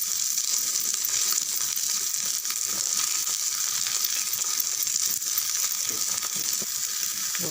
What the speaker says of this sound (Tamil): கொஞ்சமாக மல்லி இலை, கொஞ்சம் கருவேப்பிலை எல்லாமே சேர்த்து நல்லா கலந்து விடுங்க.